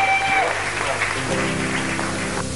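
A church congregation breaks into applause to welcome a preacher, a dense, continuous clapping that fills the hall, with a voice speaking over it.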